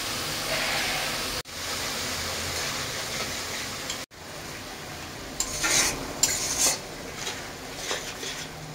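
Crushed ginger tossed into a pan of spices, hissing with a steady loud sizzle while a utensil scrapes and stirs, the clatter picking up toward the end.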